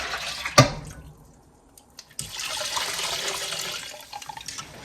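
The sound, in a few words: filling a big pot with water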